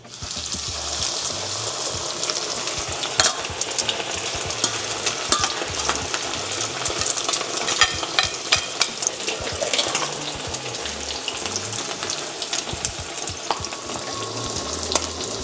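Breaded pork chop sizzling steadily in hot oil, a dense continuous crackle and spatter with occasional louder pops, close and fairly loud with no talking.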